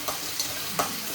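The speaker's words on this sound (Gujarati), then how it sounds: "અહીંયા વઘાર થઈ રહ્યો છે" Ginger and green chillies sizzle in hot oil as a tempering for Gujarati dal dhokli, a steady frying crackle broken by three quick scraping stirs of a spoon in the pan.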